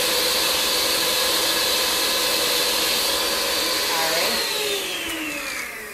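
An electric mixer whirs steadily through batter, a loud even motor whine that drops in pitch near the end as it slows.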